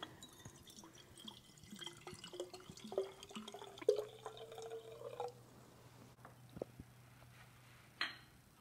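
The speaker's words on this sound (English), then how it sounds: "So I'll start by pouring the hydrogen peroxide into the jars." Hydrogen peroxide is poured into jars with a soft, steady liquid trickle, drips and gurgles, and a rising filling tone, close and fairly quiet, ending in a few scattered drips.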